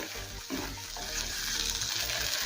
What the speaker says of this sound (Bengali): পোস্ত বাটা মশলার সাথে মিশিয়ে নেব আর মিনিট 2 সময় নিয়ে পোস্ত বাটা মশলার সাথে একটু কষিয়ে নেব